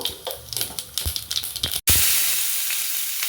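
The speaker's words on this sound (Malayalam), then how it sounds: "ഒന്നര ടേബിൾ സ്പൂൺ വെളിച്ചെണ്ണയാണ് ഒഴിച്ചു കൊടുത്തിരിക്കുന്നത് അതിലേക്ക് ഒരു അര ടീസ്പൂൺ കടുക് ഇട്ട് കൊടുത്തു" Half a teaspoon of mustard seeds splutters in one and a half tablespoons of hot coconut oil in a kadai: loud, close, irregular popping crackles, then a sudden cut into a strong steady hiss.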